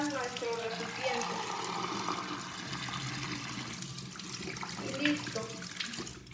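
Hot water runs steadily into a container, a continuous rushing, splashing flow that rises in pitch as the container fills, with some faint background noise throughout.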